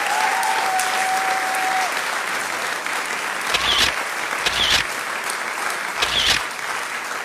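Cartoon applause from an unseen audience greeting a fried potato-chop character at an awards show, a steady clapping crowd sustained throughout with a few brighter swells near the end.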